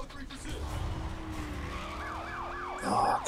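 A police car siren wails in the Need for Speed: The Run racing game, its rising and falling sweeps entering late over a steady engine drone and tire skids.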